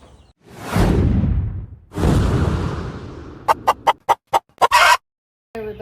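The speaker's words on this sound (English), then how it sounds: "And the chickens have all gathered in the garage because they know." Chickens in a brooder set up in a garage at feeding time make two broad rustling whooshes, then a quick series of sharp, short clucks close by, with no talking.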